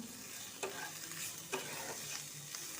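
Stirring in a pan set to medium heat, with bottle gourd peels being tossed together with salt, turmeric and sugar. A steady sizzle from the pan, broken by a few sharp scraping strokes of the spoon at irregular intervals.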